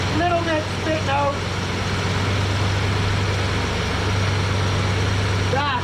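A barn-find Dodge D100 pickup truck with a nearly empty tank idles with a steady, low, even rumble that holds throughout, while someone talks over it.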